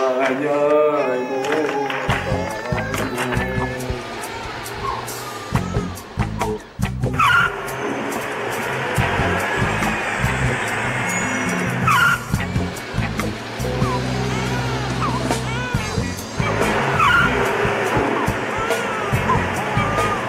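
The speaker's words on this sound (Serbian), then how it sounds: "Voli ovo zvuk motora." A car engine running and revving with tire squeal and skidding bursts, loud and close with uneven surges and cuts over twenty seconds, mixed with other background sounds.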